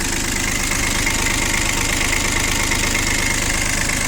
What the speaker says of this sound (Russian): отсюда и ровная работа двигателя